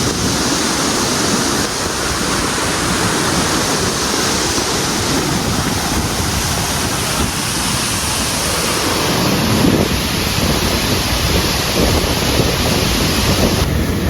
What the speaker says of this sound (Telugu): సరదాగా వాటర్ ఫాల్ అయితే చాలా బాగుంది